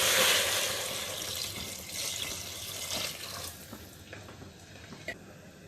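Water runs and splashes steadily into a pot of sambar, a broad hissing pour that tapers off toward the end, with a few faint clinks.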